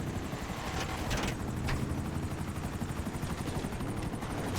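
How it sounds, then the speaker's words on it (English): Helicopters fly overhead with a steady, continuous rotor drone and a constant wash of broadband noise that persists throughout at moderate loudness, with no voices. "And the helicopters."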